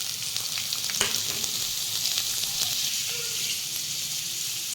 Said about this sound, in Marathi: लसूण चांगला सोनेरी भाजला की त्यामध्ये ॲड करायचा आहे आपल्याला कांदा.